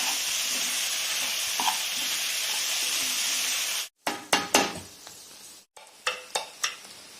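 Ridge gourd curry frying in a pan hisses loudly and steadily, then cuts out and gives way to repeated scraping stirs against the pan, each followed by a burst of sizzle.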